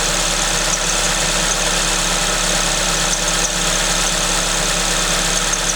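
Suzuki ZC31S engine idling with a supercharger V-belt squeak, a loud, steady, continuous drone with a constant whine layered over the running engine, heard close up without voices.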